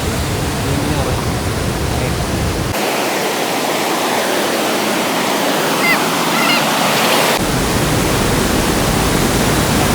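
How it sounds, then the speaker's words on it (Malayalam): Loud, constant roar of water rushing from the open shutters of Maniyar Dam in Pathanamthitta, Kerala, a dense unbroken torrent close by, with no pauses and no clear talk. "നമ്മുടെ ഈ വീഡിയോ ഫുള്ളായിട്ട് വെള്ളം ഒഴുകുന്ന സൗണ്ടായിരിക്കും"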